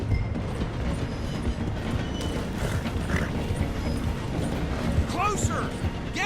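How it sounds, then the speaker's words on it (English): A train slowing through a station in the video game Red Dead Redemption 2, a dense low rumble of rolling wheels and clanking carriages with a squeal of brakes near the end, under speech. "The train is slowing down to go through the station."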